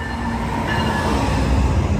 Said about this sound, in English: So our train to Ottawa is on its way down the track there.